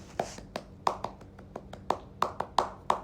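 Pramuka scout rhythmic clapping, a run of about a dozen sharp hand claps in an uneven, patterned beat, close and clear with no talk over it.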